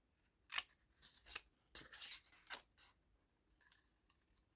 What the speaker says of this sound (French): Et on va juste couper un petit peu en biseau les coins là.